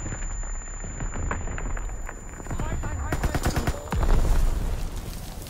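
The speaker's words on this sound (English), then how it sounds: "Lobbing a grenade!" Grenade blast and gunfire in the World War II shooter Call of Duty: WWII, with rapid bursts of machine-gun fire and a heavier boom near the end, dense and loud with a voice heard over the battle.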